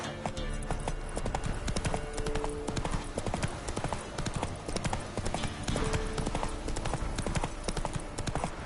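Galloping hooves of a horse in The Witcher 3 video game, a steady rhythmic clip-clop running throughout at close range, with a brief whinny.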